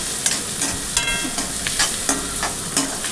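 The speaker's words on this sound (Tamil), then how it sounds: "அரிஞ்சு வச்ச வெங்காயம் தேவையான அளவுக்கு போட்டுட்டு இப்போ வதக்கிக்க வேண்டியதுதான்" Chopped onions sauté in a hot pan with a steady loud sizzle, broken by regular scraping strokes of a spoon roughly every half second and no talking.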